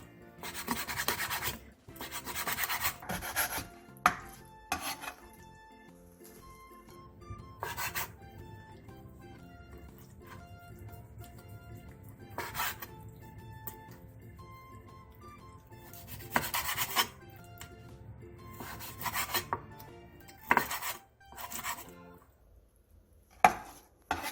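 A knife slices a squid into 2 cm pieces on a cutting board, with repeated scattered chops and scraping strokes coming in bursts with quiet gaps, close and fairly soft, no voices.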